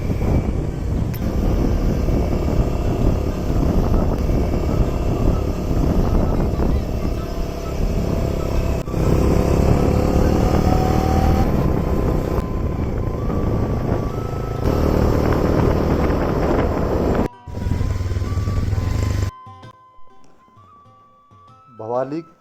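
A motorcycle ridden along a winding hill road toward Neem Karoli Dham near Bhowali, a steady loud engine drone with wind rush that cuts off near the end.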